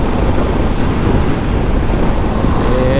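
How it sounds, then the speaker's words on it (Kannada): Strong wind blasts buffet the microphone during a motorcycle ride on the highway from Mantralayam to Tirupati, making a loud, constant broadband roar with no break. "ಸಖತ್ ವಿಂಡ್ ಬ್ಲಾಸ್ಟ್ ಇದೆ"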